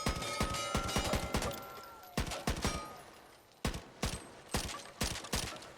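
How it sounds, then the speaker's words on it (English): Scar rifle firing in Back 4 Blood, short controlled bursts of crisp rapid shots with brief pauses between them, loud and close, with no talking. "A couple of like full auto shots in there, but don't just hold the trigger down"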